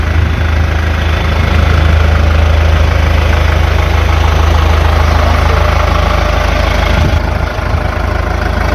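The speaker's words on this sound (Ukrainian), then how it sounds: "чітко працює двигун, взагалі димом не кидає" A Kubota 95-horsepower tractor diesel engine idles steadily and loudly nearby, a low continuous chugging rumble with no voices.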